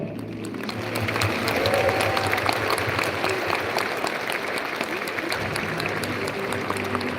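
Audience at a company anniversary celebration clapping steadily, a dense sustained wave of applause from a large crowd with faint background voices.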